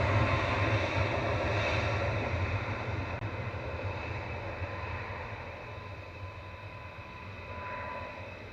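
A Sun Express Boeing 737 MAX 8 passes at Manchester Airport, its engines giving a steady, distant jet roar with low rumble. The roar fades slightly, then swells again near the end.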